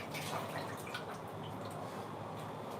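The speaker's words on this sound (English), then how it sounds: "I'm going to go ahead and wash my hand." Hands are washed under a running tap in a home kitchen while sardine bread is being prepared; a faint, steady stream of water splashes and drips throughout, with no talking.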